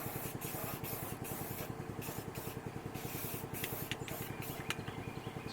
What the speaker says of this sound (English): This is rust reformer that I'm spraying on my rust down here